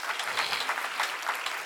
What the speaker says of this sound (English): a big round of applause for this big Lifetime Achievement Award